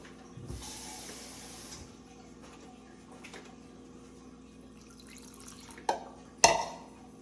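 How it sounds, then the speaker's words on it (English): Water is poured into paprika-seasoned juice for chicken paprikash in a home kitchen, a short splashy pour early on, faint drips and clinks, then two sharper splashes near the end. "We're gonna add a little bit of water to it."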